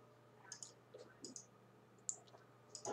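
A computer mouse clicks a few times in separate short bursts while navigating an Obsidian canvas, crisp and close with quiet room tone between clicks.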